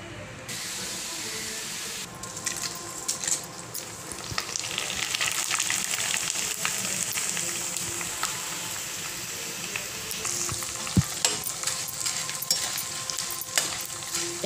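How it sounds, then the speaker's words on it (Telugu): Corn flakes frying in hot oil, a continuous close sizzle and bubbling hiss that swells after the flakes go in, with occasional faint stirring clinks. "ఆయిల్ బాగా బాయిల్ అయ్యాక కార్న్ ఫ్లాక్స్ వేసుకొని వేయించుకుందాం"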